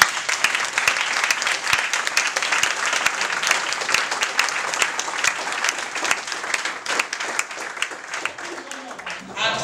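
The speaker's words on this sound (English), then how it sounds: "Let's give her another round of applause." A crowd at a speaking event applauds someone speaker, with loud, continuous clapping that holds steady for several seconds before tailing off at the very end.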